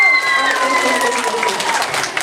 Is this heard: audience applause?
yes